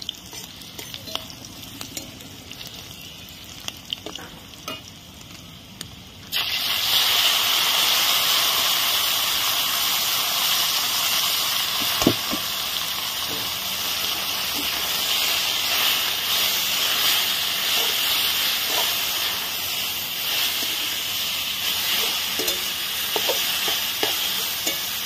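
Water spinach (kalmi shak) hits a hot pan with chopped green chillies, bursting into a loud, steady sizzle that holds for about twenty seconds after a quieter opening, with occasional stirring clatter.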